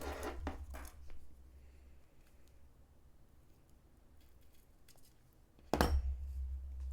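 Scissors snip through a diamond press 3D fairy sticker sheet, cutting it in half: a couple of close crisp cuts at the start, a quieter stretch of faint handling, then another sharp snip near the end.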